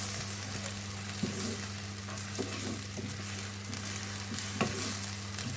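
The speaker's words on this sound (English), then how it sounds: "I'm going to cook that for about 5-10 minutes until the smell of the onion goes." Onions fry in a pan for a Bangladeshi-style chicken korma, a steady close sizzle with occasional stirring scrapes running throughout, no voices.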